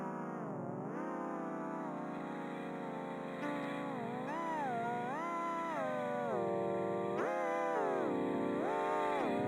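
Processed cat meows in a video game, a long continuous run of warbling, pitch-bending mewing with echo and distortion effects, loud and steady throughout.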